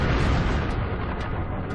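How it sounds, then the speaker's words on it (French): A huge meteor explosion over the remote Siberian forest by the Tunguska river in 1908, a loud, broad rumbling blast that fills the clip and slowly decays without any voices. "une explosion retentit au-dessus de la lointaine forêt sibérienne"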